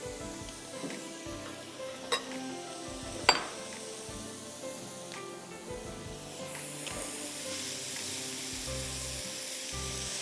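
Carrots sauté in ghee for gajar ka halwa with a steady sizzle and frying hiss, broken by occasional clinks and stirring scrapes of a utensil against the pan.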